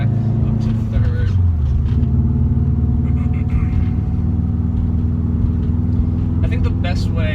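A Subaru STI engine revs with a throttle blip as the driver shifts from second up to third gear, a loud continuous rumble whose pitch dips and climbs across the shift, with someone talking over it.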